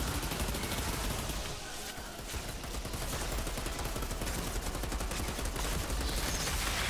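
A light machine gun in a video game fires in continuous rapid bursts, a dense, steady rattle that runs at moderate loudness throughout with little break.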